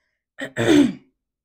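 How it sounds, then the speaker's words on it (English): A woman gives a single short throat-clearing cough, close and fairly loud, a brief catch followed by a fuller rasping burst, then silence. "See, and I'm coughing"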